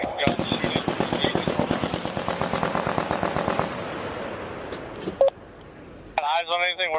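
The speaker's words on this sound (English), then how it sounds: "I hear guns shooting." Rapid automatic gunfire rattles in a steady stream of bursts during an army training exercise, lasting several seconds before fading to a quieter background with radio-like beeps and voices.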